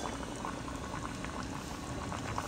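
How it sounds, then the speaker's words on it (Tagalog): Chicken simmers in water in a covered cooking pot, a steady, close bubbling and rolling boil that stays even throughout with no voices. "Pwede natin dagdagan ang ating water ng half cup para ma-boil natin siya ng 15 minutes ulit"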